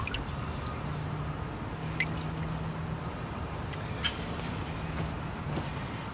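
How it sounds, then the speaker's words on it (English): Water trickles and drips steadily as an apple tree bonsai is lifted out of its water bath. A soft, continuous close-up patter runs throughout with occasional sharper drops, and no voices are heard. "We'll get the tree out of our water."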